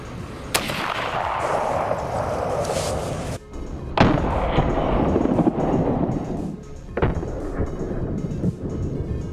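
Gunshots fired outdoors through a meme flash hider V3 muzzle device: several loud, sharp reports spaced a few seconds apart, each booming and echoing over a constant rushing background like wind.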